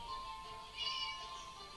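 A cat meows faintly in the Scary Teacher video game, a single drawn-out call rising briefly over a steady background hum.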